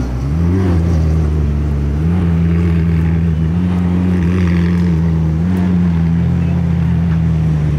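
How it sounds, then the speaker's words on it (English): A McLaren Senna supercar engine drones loudly and steadily nearby as it drives at a car show, its pitch rising and falling slightly in small revs. "That's Jeffree Star's old McLaren Senna."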